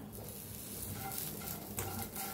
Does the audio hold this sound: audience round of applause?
no